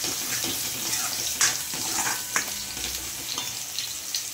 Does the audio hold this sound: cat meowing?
no